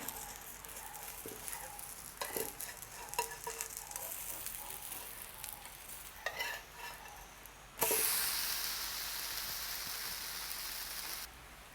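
Aval (flattened rice) dosa frying on a hot pan, with a steady soft sizzle and intermittent scraping and tapping as it is turned, then a louder, brighter hiss after the flip that holds until near the end.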